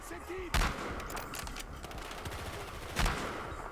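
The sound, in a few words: gunfire in video game Battlefield Hardline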